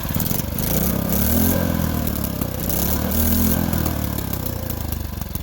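A modified 3.5 hp Tecumseh small engine runs loud and close with a rapid, buzzy mechanical clatter, its pitch rising and falling slightly as it revs.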